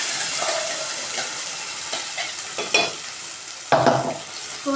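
Dried red chillies and fresh coriander fry in hot oil, giving a soft steady sizzle with a few louder crackles and stirring scrapes close up, and no one talking.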